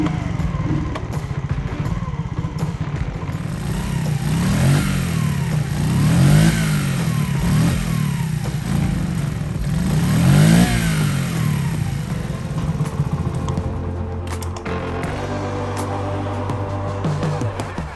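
AGM Caferacer luxury mini bike engine, after a throttle grip fix, revving up and down in two strong swells near the mic, then settling to a lower idle-like drone toward the end.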